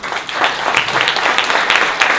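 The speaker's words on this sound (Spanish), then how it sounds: "Más fuerte los aplausos, por favor." Audience applause following a talk at a folk art conference, a dense, steady patter of many hands clapping throughout, fairly loud and filling the room.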